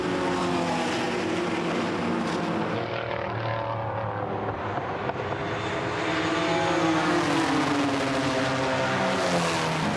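Historic race cars at Goodwood SpeedWeek roar continuously and loudly, several engines overlapping as they bunch nose to tail into a chicane, with pitch rising and falling through gear changes.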